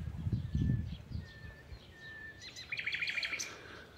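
Small birds chirp outdoors in short, thin repeated calls, faint and somewhat distant, with a quick cluster of chirps near the end over a low background rustle.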